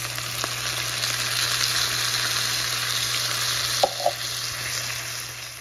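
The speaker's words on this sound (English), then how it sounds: "I've got those ground beef patties all ground up there and we are browning our meat" Ground beef browns in a skillet with a steady, close sizzle throughout, broken by a couple of brief utensil knocks near the end.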